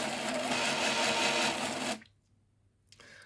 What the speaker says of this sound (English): might not be able to hear me over the printer noise